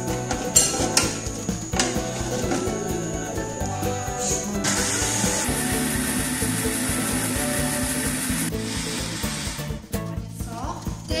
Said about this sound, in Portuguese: Vamos ligar o liquidificador?